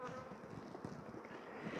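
Honey bees buzz in a dense, steady swarm drone at an opened hive as frames are shaken, close and continuous throughout with no talking.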